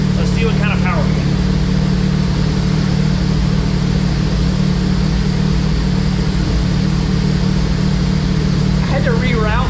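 A 2021 Kawasaki ZX-10R motorcycle engine with its restrictions removed runs steadily and loudly up close, a dense mechanical drone holding for the whole stretch, with brief voices at the start and end.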